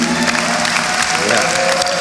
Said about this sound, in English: Let's give them a big round of applause for being here for you